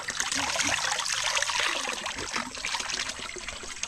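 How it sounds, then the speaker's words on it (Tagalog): Water trickles steadily from a natural spring source where wild lipote fruit grows, a continuous close, bright splashing flow with no voices. "Yan po nang gagaling ang tubig."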